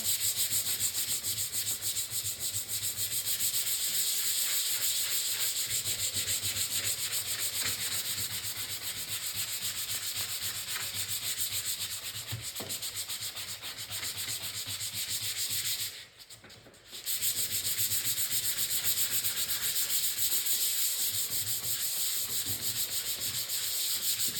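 A Harley Davidson fender is sanded with 80 grit paper in a continuous, loud, close abrasive rasp that pauses briefly once before resuming.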